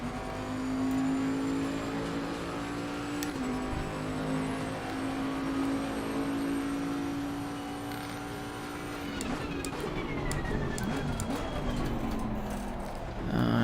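Race car engine in Assetto Corsa Competizione during a qualifying session, a steady loud drone that shifts pitch as gears change, with a rougher stretch near the end.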